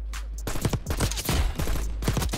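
Rapid bursts of gunfire from a PDW in Black Ops 6 crack loud and close, sharp repeated shots in quick clusters with brief gaps between volleys.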